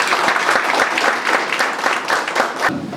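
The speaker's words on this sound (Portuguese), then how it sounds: "Então quero pedir desde já uma salva de palmas." An audience in a cultural talk event breaks into loud, dense applause, many hands clapping steadily and close throughout.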